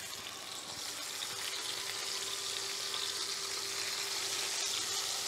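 Beef searing in peanut oil in a large pot gives a loud, continuous sizzling hiss close by, steady throughout with a brief crackle near the end and no talking.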